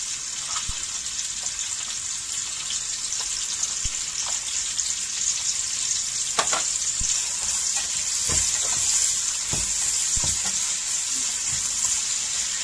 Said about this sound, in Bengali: পেঁয়াজটা আমি ভেজে নেব